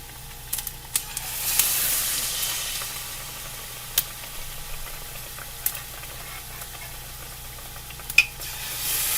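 Eggplant slices for crispy begun fritters fry in hot oil on a low flame, a steady soft sizzle with occasional sharp pops and crackles, no voices.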